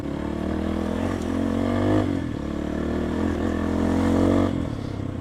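A Motorhead Sports 250 dirt bike engine drones close by while riding in Nepal, a steady throaty hum with slight swells in revs and faint rattling throughout.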